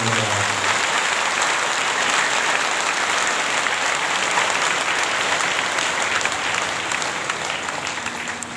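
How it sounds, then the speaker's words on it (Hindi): An audience at a spiritual discourse breaks into sustained, dense applause. The clapping stays even and fairly loud throughout and fades slightly near the end. "एक बार सभी एक दूसरे के उत्साहवर्धन में तालियों की"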